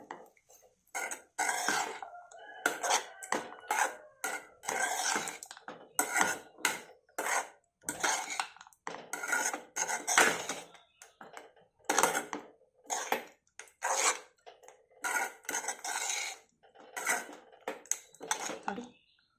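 Jeera poha with roasted gram is stirred in a pan: a long run of close, rhythmic scraping and clanking strokes separated by brief pauses, with no one talking.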